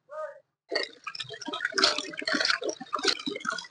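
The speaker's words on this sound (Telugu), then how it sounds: "ఇలా శుభ్రంగా మూడు నాలుగు సార్లు కడుక్కోవాలి" Pieces of country chicken are washed in water for a Rayalaseema village-style curry, with close, busy sloshing and splashing as the pieces are rinsed, after a short separate sound at the start.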